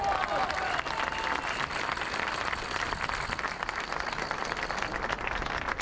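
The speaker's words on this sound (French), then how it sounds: "On peut les applaudir." A crowd at an anti-Macron rally on Place de Fontenoy in Paris applauds the organisers, dense steady clapping filling the whole stretch with a faint tone fading early and some voices mixed in.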